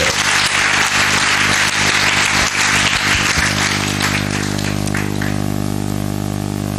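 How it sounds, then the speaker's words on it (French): A church congregation claps loudly over a steady sustained musical drone, the clapping thinning out toward the end while the tones carry on. "Acclamons le Seigneur, s'il vous plaît."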